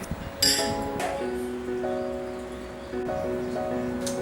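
Glasses clink together in a toast among a group of women, a few bright chinks near the start over a sustained tonal background.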